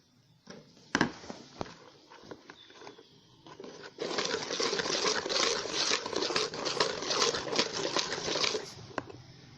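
Birthday cake batter flavoured with vanilla being mixed in a bowl, first a few scattered knocks and scrapes, then a few seconds of dense, continuous wet churning up close.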